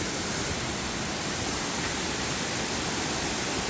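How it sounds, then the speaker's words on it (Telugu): Steady, full-bodied rushing roar of a waterfall in Kodaikanal on a cold night, continuous and unbroken from start to finish with no voices over it. "So here is the water falls."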